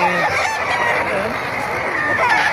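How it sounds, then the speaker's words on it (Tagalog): Roosters crow and cluck loudly and up close amid the dense bustle of the Bocaue pet market, with overlapping calls filling the whole stretch and voices mixed in. "Ang daming manok oh"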